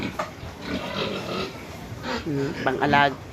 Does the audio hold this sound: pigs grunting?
yes